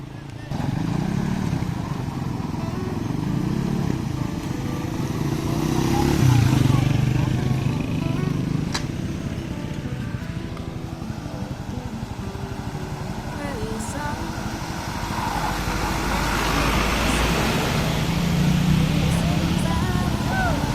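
A motorcycle engine runs steadily while riding through flood water in Tumalalud, Mambusao, Capiz, Philippines, its drone continuous and close under frequent talking.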